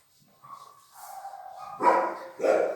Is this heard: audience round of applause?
no